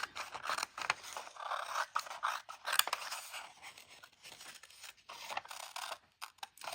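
Scissors cutting out a paper design for a scissor case, close and quiet, with repeated snipping and scraping strokes in an uneven rhythm.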